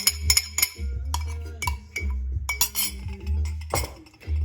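A soy sauce, garlic and ginger mixture with brown sugar stirred in a pan over low heat, giving close clinks and scrapes of a utensil against the pan at an uneven pace and no talking.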